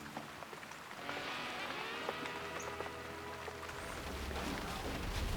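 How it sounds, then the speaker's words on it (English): Rain falls steadily around a hunting blind at a deer hunt, a soft continuous patter that swells slightly louder toward the end, with no talking. "We're just sitting here in the rain."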